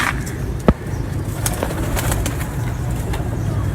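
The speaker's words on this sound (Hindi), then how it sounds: "ये ब्रीडिंग पिजन्स हैं" Breeder pigeons in a loft coo softly against a steady background hum, with one sharp click or wing flap standing out near the start and faint intermittent chirps throughout.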